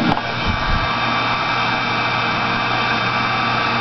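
A heat gun blows steadily while melting embossing powder from underneath, a constant loud broadband whoosh of air with a faint thump at the start and no talking.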